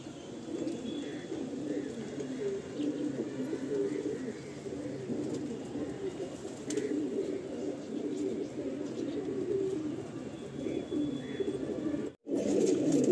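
A pair of Madrasi pigeons let loose at a loft, cooing steadily at close range over a continuous low murmur of birds, with a brief gap near the end.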